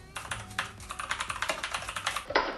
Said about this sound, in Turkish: Ben hayatımda ilk defa mekanik klavye kullanacağım arkadaşlar. O yüzden bana malzemesi iyi geldi. Şöyle sesini duyun.